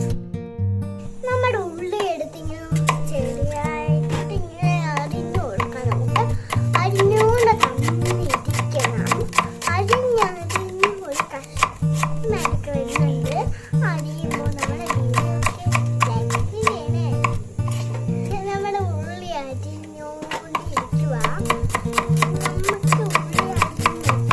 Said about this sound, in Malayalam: പിന്നെ നമ്മുടെ ഒരു തക്കാളിയും കൂടെ അരിയണം